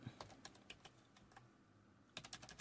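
Computer keyboard typing on a Fedora 40 Linux machine set to an English layout: an irregular run of close, light key clicks, pausing briefly mid-clip, then a quicker burst of keystrokes near the end, with no voices.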